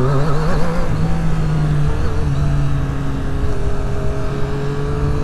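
A 2022 Triumph Street Triple RS motorcycle, a three-cylinder bike, accelerating hard, with a loud close engine note rising and holding under strong pull and no talk.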